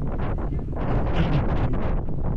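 Cold wind gusts loudly across a cruise boat on the water in Istanbul, a steady roaring buffet against the microphone with no talk over it.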